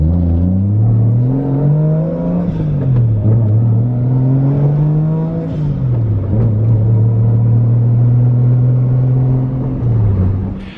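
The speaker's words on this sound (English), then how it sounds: "I get to drive Nicole's car, so it's a good day." A car engine drones steadily while driving, its pitch sliding up and down through gear shifts, loud and continuous throughout with no talk over it.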